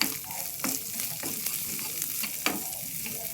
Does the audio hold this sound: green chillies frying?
yes